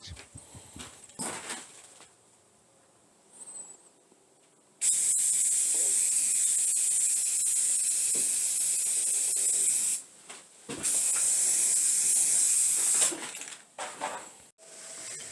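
Long bursts of spray paint hissing from an aerosol can, three separate sprays with short pauses between, close and loud, after some quiet handling noises.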